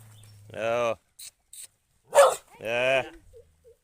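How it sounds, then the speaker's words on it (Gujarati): A dog gives two drawn-out barks with a few short yips in between, close by and in otherwise quiet surroundings. "સરસ મજાનો ડોગી છે"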